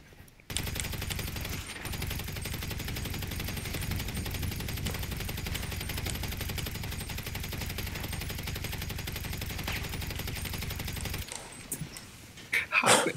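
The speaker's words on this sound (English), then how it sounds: "Oh, that's a rifle." Sustained rifle gunfire from the GTA V video game, a dense, rapid, continuous automatic rattle that runs steadily for about ten seconds at close range before cutting off, followed by brief scattered noises.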